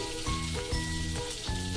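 Steady crackling sizzle of prawns coated in turmeric and salt frying in hot oil in a kadai, loud and close, with a low humming underneath and no voices.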